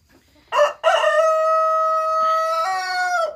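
A Brahma rooster in a shed lets out one loud, close crow that starts with a short note and then holds a long, drawn-out call for about three seconds.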